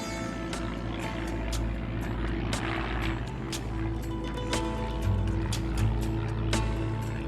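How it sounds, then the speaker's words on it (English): A small airplane flies over the island communities of Penobscot Bay, its engine a steady droning hum that stays constant and fairly loud, heard alone without talk. "Seven days per week, Tomas flies to the remote island communities of Penobscot Bay."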